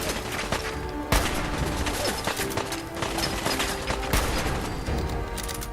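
Dense gunfire from enemies in the video game Fallout 4, a near-continuous fusillade with sharp crack peaks and mechanical clatter, loud and close with no talking.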